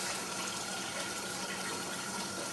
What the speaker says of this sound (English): I like to do it like, fill it up with water